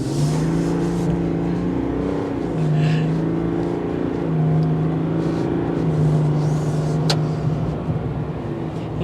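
A 2023 GMC Sierra 1500 Elevation pickup accelerates along a road, a steady engine drone rising in pitch through gear changes, heard from inside the cab with road noise and no voices.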